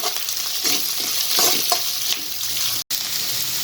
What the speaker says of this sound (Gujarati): હવે આને 1 મિનિટ માટે પહેલાં સાતળી લઈશું